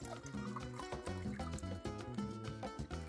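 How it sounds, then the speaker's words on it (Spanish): Eggplant water being poured into a cup, a soft continuous liquid pour and trickle at low level, set against steady music. "ahora yo lo que hago es servirla, el agua, en una taza."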